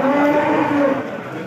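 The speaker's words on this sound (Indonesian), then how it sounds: "Di depan saya sudah ada sapi-sapi lemon semua di sini, sapi-sapi lemon." A Limousin cow lets out a single loud, close moo at a crowded Pati livestock market, fading slightly toward the end.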